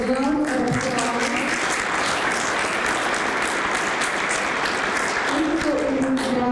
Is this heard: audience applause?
yes